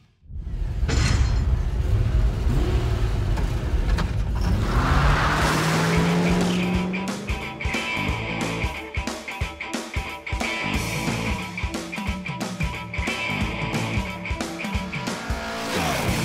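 Race cars roar loudly on a track, engines revving with tire squeal and skidding as they pass, followed by a choppy stretch of mechanical rattling and engine noise.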